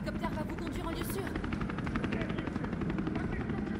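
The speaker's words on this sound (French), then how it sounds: "L'hélicoptère va vous conduire en lieu sûr." Rapid rhythmic rotor thumping of a helicopter in the video game Resident Evil 3 Remake, steady and fairly loud, with a brief burst of noise early on.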